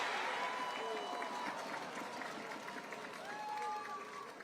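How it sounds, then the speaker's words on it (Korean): A crowd applauds and cheers at an outdoor election rally for Lee Jae-myung in Wonju, Gangwon Province: a steady, distant wash of clapping and crowd noise with whistle-like tones and voices mixed in throughout. "여러분 큰 박수"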